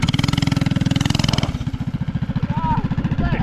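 A mini bike fitted with a Predator 212 engine runs with a rapid, loud engine pulse that shifts to a rougher, slower chug partway through, close to the microphone.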